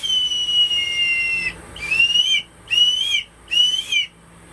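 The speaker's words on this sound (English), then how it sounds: "Pretty good little eagle whistle" A handmade wooden eagle whistle blown close and loud: one long shrill tone with a wavering pitch, then three shorter piercing blasts separated by brief gaps.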